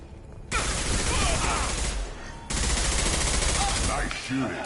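Sustained automatic gunfire in the video game Mass Effect 2, a dense continuous rattle in two long loud bursts split by a short lull, with faint voice-like sounds mixed in.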